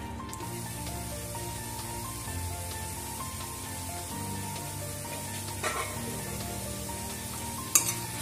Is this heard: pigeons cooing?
no